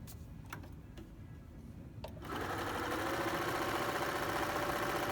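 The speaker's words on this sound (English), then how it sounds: "The feed system on a Bernina is so good that we're actually going to transport thread through the machine." A Bernina 330 sewing machine runs a zigzag stitch while feeding doubled thread, starting with a few soft ticks and then settling into a steady, close, continuous mechanical whir.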